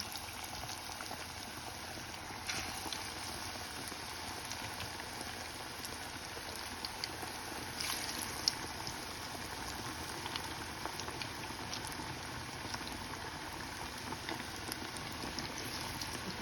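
Spice-marinated food sizzles in hot oil in a pan, cooked for an iftar meal; a steady, moderately quiet frying hiss runs throughout with no talking.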